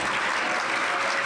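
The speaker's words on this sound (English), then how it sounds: "We're just going to clap all the way through." Applause from a school foundation event audience honoring administrators, principals, teachers and staff, a steady dense wash of clapping filling the room without a break.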